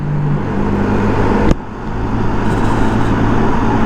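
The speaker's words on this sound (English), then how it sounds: "New experience riding through the Clyde Tunnel." A motorbike rides through the Clyde Tunnel in traffic, with a loud, steady engine and road roar filling the enclosed space and a brief thump partway through.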